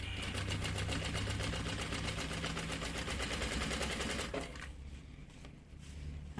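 A sewing machine stitches a trunk-style bag with a fast, steady mechanical chatter. The run lasts about four seconds and then stops abruptly, leaving quieter handling noise.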